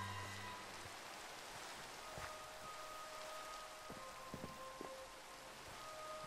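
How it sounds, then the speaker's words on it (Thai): Steady, soft rainfall in the video game Minecraft patters continuously, with a few sharper drip ticks and faint tonal hums in the background; no voices. "ฝนตกเฉยเลยฮะ"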